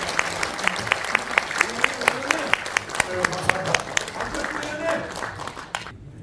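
Guests at a Korean political forum's New Year gathering clap for National Assembly member Ahn Cheol-soo, a steady rhythmic applause of evenly spaced claps that fades out abruptly at the end, with a voice audible beneath it.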